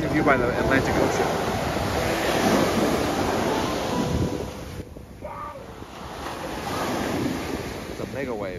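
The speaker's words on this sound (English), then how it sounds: "It's a mega wave." Atlantic Ocean waves break and wash onto a beach in Maine, a loud continuous roar of surf with heavy wind buffeting the microphone, and voices talking faintly in the background.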